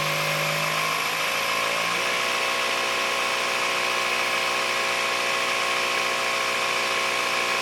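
An ARB on-board single air compressor runs at a steady, unchanging drone close by, with a constant mechanical hum and hiss; a brief shift in tone early on, then an even, continuous motor sound with no talking.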